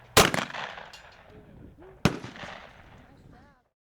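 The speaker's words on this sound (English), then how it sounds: "try out my clay shooting capabilities, and my first shot was a success" Two loud shotgun blasts at clay target shooting, about two seconds apart, each with a sharp crack and a fading rumble, close by, with faint voices between the shots.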